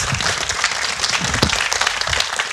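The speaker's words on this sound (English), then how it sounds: "I think we should give Robin a big round of applause." An audience gives a round of applause for a speaker, a sustained wash of many hands clapping at a steady level, fairly close and filling the room.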